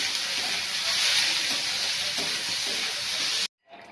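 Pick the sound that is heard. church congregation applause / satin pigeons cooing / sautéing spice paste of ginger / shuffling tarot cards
sautéing spice paste of ginger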